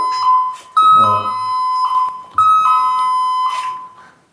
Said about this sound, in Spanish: Me había acordado que pusiste la alarma acá